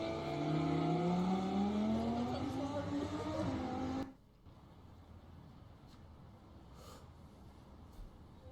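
A Porsche GT3 RS sports car engine roars loudly and steadily for about four seconds, its pitch climbing as it revs, then cuts off abruptly into quiet background noise.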